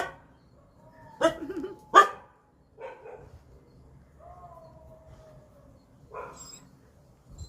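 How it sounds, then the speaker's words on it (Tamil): Dogs bark a few times, sharp loud woofs close by, then quieter scattered yelps and a whine with gaps between them. "என் சத்தத்தை கேட்டு ஓடி வரும் என் நாய்கள்"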